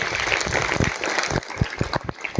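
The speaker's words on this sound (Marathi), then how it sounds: "जोरदार टाळ्या झाल्या पाहिजेत" A crowd claps for their teachers in an indoor gathering, dense steady applause that thins out into a few scattered, louder individual claps near the end.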